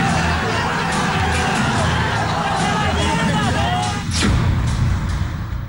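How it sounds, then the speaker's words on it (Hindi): An angry crowd queues for cash at a bank during demonetization, a dense babble of many raised voices shouting at once, close and loud throughout, with a dull thump partway through. "कैश की लाइन में बढ़ती भीड़ का बेकाबू गुस्सा"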